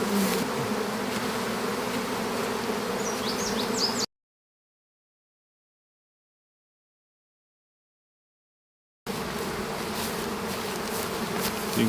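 Honeybees swarm around hives just after a hive is shaken out, making a dense, steady buzzing drone close by; the sound cuts to complete silence in the middle before the buzzing returns.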